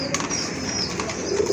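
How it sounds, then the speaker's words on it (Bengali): Indian Bombay pigeons coo in a dense, continuous low rumble, close and fairly loud, with no voices. "এগুলো ইন্ডিয়ান কবুতর, ইন্ডিয়ান বোম্বাই কবুতর"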